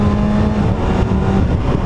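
2019 Kawasaki ZX6R motorcycle held at open throttle and shifting through gears with a quick shifter, a loud, close, continuous engine roar that steps quickly in pitch.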